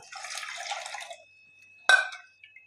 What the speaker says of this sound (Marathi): याच्यात आता आपल्याला दोन वाट्या असं पाणी घालायचं